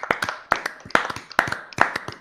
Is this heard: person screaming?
no